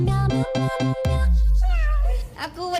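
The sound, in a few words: voice imitating a cat meowing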